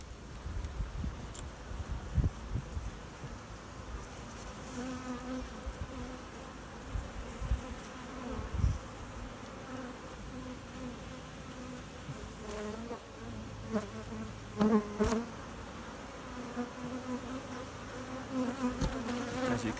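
A honeybee colony in an opened hive hums with a continuous, soft buzzing swarm, with individual bees droning past nearby now and then, and no talk.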